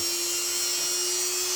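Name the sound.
Dremel polishing wheel polishing Colt Python revolver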